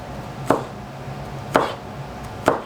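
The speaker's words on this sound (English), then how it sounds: "I'm gonna cut this off right here, the root part." Knife chopping the root ends off a bunch of green onions on a cutting board, three separate sharp thuds spaced about a second apart, close and clear with no talk.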